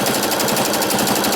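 Domestic sewing machine running a zigzag stitch along the raw top rim of a quilted fabric tote bag, a steady, close, continuous mechanical whirring hum with fast rhythmic needle chatter, alone with no talk.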